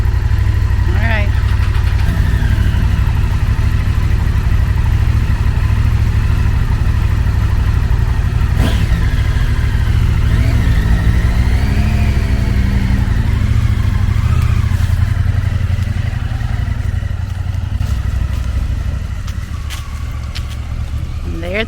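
Motorcycles idle and rev with a steady, loud low engine rumble, then pull away and fade somewhat toward the end, with people talking faintly over the noise.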